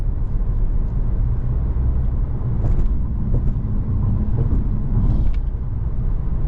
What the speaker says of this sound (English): we have that little 2-liter struggling to get this car up to speed